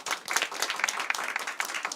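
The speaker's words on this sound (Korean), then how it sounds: "우리 축하의 박수 해주시겠어요?" Church congregation clapping in congratulation at a Sunday service, a brisk, close burst of many hands applauding steadily, with no voices.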